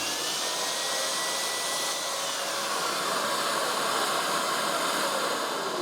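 A mitre saw makes a test cut through timber skirting board, a loud, steady motor whoosh lasting several seconds with a faint whining tone that slowly falls in pitch.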